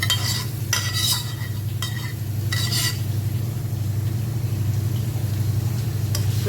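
Mashed pav bhaji vegetables being mixed in a pan, with a few scraping strokes and clinks of a utensil against the metal over a low, continuous sizzle and hum.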